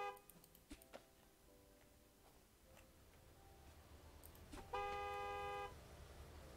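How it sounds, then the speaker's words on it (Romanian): Car horns honk in a video game, scattered short toots early on and then one longer, louder blast near the end, set against faint background noise with no talk. "Bă, dar nu mai claxonați."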